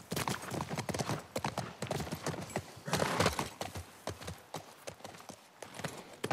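A horse's hooves clip-clop in a steady, close trot in the video game The Last of Us Part 1, with the beats sharp and loud and a brief heavier flurry midway.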